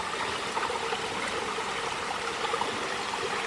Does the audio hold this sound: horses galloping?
no